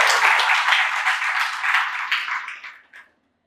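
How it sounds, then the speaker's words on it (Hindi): Hands clap together in a devotional lecture gathering, fairly close and lively at first, then thinning out and stopping just before the end. "ताली बजाइए।"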